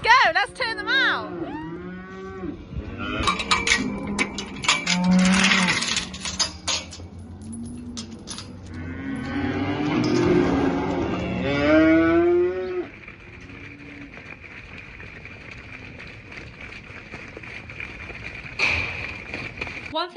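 Cattle let out to grass for the first time since winter moo loudly and repeatedly nearby, with hooves and movement as the herd runs out and occasional talk in between.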